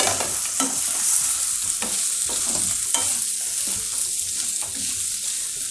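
Chopped vegetables fry in hot oil for seeralam, a South Indian dish, with a loud, continuous sizzle close by. Repeated scraping stirs recur every second or so, and no one speaks.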